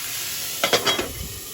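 Squash sizzling as it is added to a hot pan, a short burst of crackling fry and stirring that rises suddenly and fades into a softer hiss, no voices.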